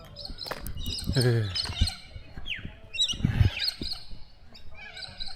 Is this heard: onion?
no